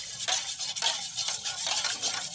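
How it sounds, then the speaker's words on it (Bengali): A spoon works through homemade chemical-free aloe vera gel flecked with green leaf bits in quick, rhythmic swishing strokes. The moist scraping and squelching repeats steadily, close and clear, with no talking. "উপকরণগুলো ভালো করে মিশিয়ে নেব আমি"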